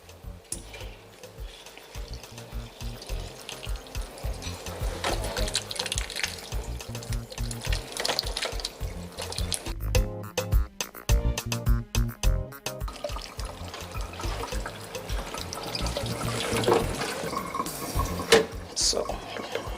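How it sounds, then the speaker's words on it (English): Tap water runs in a kitchen during cooking prep, a steady rushing splash with clattering handling sounds, continuing under light background activity. "I'm going to run water on it."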